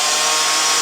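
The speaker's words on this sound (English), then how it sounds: "those rollers stop the chainsaw" A chainsaw makes a vertical dovetail cut in wood, a loud, steady, close roar of the engine and chain with no break over the short stretch.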